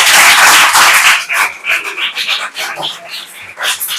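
Classroom of children clapping loudly after a correct answer in an eye lesson: a dense, close burst of applause that breaks into uneven, choppy rounds before fading.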